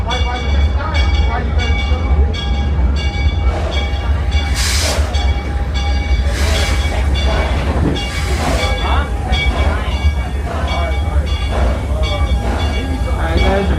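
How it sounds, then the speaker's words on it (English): Six Flags Over Texas Railroad steam train ride, with rhythmic clickety-clack of wheels on rail joints, a deep steady rumble, and brief hissing bursts of steam, heard up close from a passenger car. "This is an authentic steam engine."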